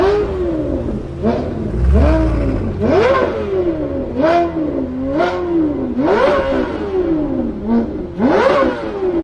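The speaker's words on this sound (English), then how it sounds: "some incredible Capristo aftermarket exhaust revs" A Ferrari F430 Scuderia fitted with a Capristo aftermarket exhaust revs repeatedly and loudly up close, with sharp rising blips falling back between each of about seven throttle stabs.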